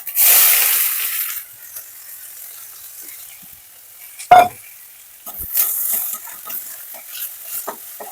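Half-fried onions in very hot oil crackle in a loud opening burst of sizzle that settles to a quieter frying hiss, broken by a sharp clank of a utensil and intermittent stirring scrapes.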